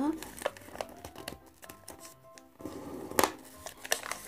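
Paper being creased and folded into an origami shoe, with crinkling and rustling handling sounds close by, scattered bursts in between and a sharper crackle near the end, while a woman gives folding instructions over it.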